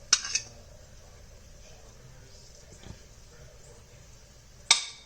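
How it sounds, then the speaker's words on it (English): A spoon clinks against a plate while cutting through tender mutton biryani: a couple of quick metallic taps at the start, a soft muffled scrape, then another bright clink near the end, all faint and close. "It just beautifully cuts through with the spoon"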